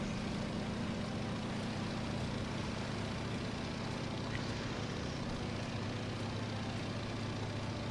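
A Stearman PT-17 biplane performs loops at an airshow, its radial engine giving a steady, distant drone that holds at an even level throughout.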